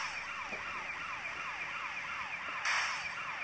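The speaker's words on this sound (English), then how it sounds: "I'm going to turn off the siren by going there and toggle siren" A wailing police siren in the video game GTA Chinatown Wars sweeps up and down repeatedly, steady and fairly faint, with a brief brighter burst near the end.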